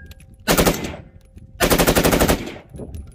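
Full-auto bursts from an AR-15 built on a 3D-printed Hoffman Tactical Superlower V2.4 lower: two loud, rapid strings of shots, the second longer, with a fainter trailing shot or echo afterward, close to the microphone.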